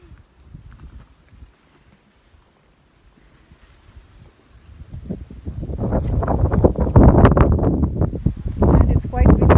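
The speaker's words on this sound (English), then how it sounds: "And it's quite windy" Strong wind buffets the microphone at the crater of Mount Sibayak volcano. It starts quiet, then swells into a loud, sustained roaring rumble through the second half.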